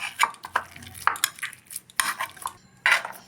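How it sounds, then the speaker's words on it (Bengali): Boiled, peeled potatoes are mashed and mixed in a bowl, producing close, irregular scraping and clinking of a utensil against the dish, fairly quiet. "এবার এটা ভালো করে মিক্স করে নেব"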